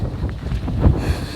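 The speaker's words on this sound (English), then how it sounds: "And it's windy like right now." Wind at an outdoor camping spot rumbles and buffets the microphone in a brief, low, steady gust, with no voices.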